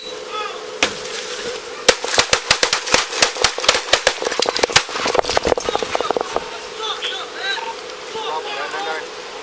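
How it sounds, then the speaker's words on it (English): Police gunshots during an officer-involved shooting in Phoenix: a rapid volley of many sharp, loud cracks in irregular bursts lasting several seconds, with shouting voices around them and mixed with the shots. "The gun remains in Garcia's lap after the shooting"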